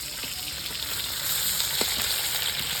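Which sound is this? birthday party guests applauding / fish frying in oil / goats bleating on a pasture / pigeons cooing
fish frying in oil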